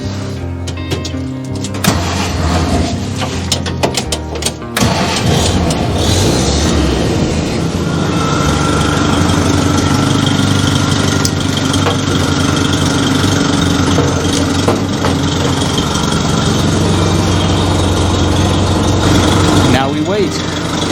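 A 1948 Willys CJ2A Jeep engine runs and idles after a fuel leak and a coolant leak at the firewall were dealt with, a steady, loud, close rumble that holds evenly throughout with a brief rougher patch early on.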